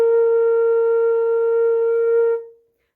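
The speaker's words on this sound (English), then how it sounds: "You make a sound on the flute actually by blowing across this hole here" A single sustained flute tone held steady at mid pitch for over two seconds, played clean and alone, then cut off and fading into silence.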